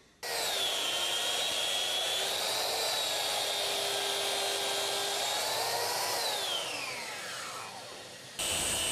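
A Bosch saw with a fine-tooth TCT blade cuts internal dividers for a TV cabinet, a loud whining cut holding steady before the motor's pitch falls away as it winds down, then a brief burst of noise at the end.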